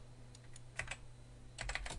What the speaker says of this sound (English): we want to type in all-in-one AdSense